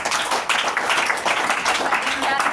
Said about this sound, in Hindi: डी एक्शन के लिए जबरदस्त ताली लगाइए